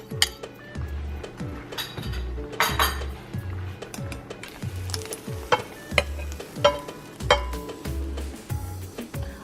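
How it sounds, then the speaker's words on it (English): Beaten eggs being scrambled in a frying pan for japchae, with a soft sizzle under repeated rhythmic scraping and clinking of a utensil against the pan, close and steady with no talking. "We're gonna make some scrambled eggs"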